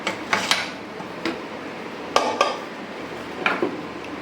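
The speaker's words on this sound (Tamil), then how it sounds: "இப்போ மூடியை திறந்து பார்த்தலாம்." Metal clatter as the lid comes off a pressure cooker holding biryani, several sharp clinks and knocks spaced irregularly with quiet pauses between, close and fairly loud.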